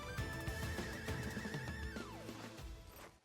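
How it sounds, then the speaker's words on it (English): A horse in the video game Honkai Impact 3rd gives a loud, drawn-out neigh over game music and hoof-like thumps, the whinny holding steady then dropping away toward the end. "A horse."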